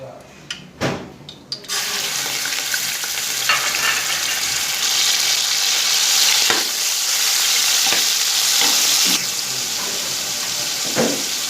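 Chicken frying in oil in a pan gives a loud, continuous sizzle with stirring scrapes, after a few brief clatters at the start.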